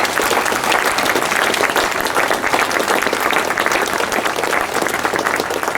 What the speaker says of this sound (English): Can we just have a round of applause for all the trustees